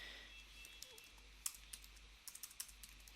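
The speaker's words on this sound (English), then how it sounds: "We can start typing a message." Keys on a computer keyboard click in short, irregular bursts, faint and close, with a low steady hum under the quiet taps.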